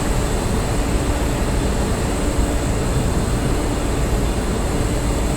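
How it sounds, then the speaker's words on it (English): Loud, steady rumble and roar of a passing train in the video game Train Simulator 2020, continuous and close throughout with no talking. "Here goes the next train."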